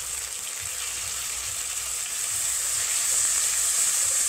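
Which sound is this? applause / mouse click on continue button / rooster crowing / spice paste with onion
spice paste with onion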